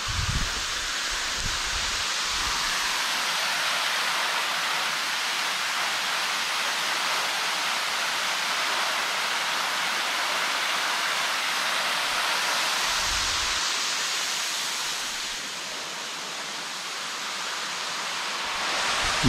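A small waterfall at Janela do Céu in Ibitipoca pours as a steady, dense rush of falling water, close and continuous, easing slightly toward the end.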